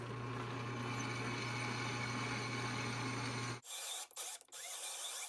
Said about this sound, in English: It gets a drilled and tapped hole near each corner.